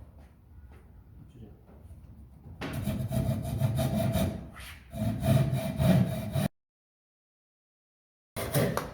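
A hand saw rasps through wood in quick back-and-forth strokes while cutting roof truss joinery, loud and close, with faint talk before it and a sudden stop near the end.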